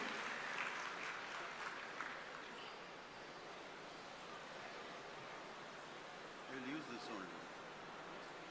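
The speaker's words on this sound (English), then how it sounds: "With a huge round of applause, my dear students, let us all welcome the Chief Guest of Honor, Dr. K. Kasturiranganji." Applause from an audience at a 2022 university convocation ceremony, a broad steady wash of clapping filling the hall, fairly distant and even throughout, with faint voices murmuring beneath it.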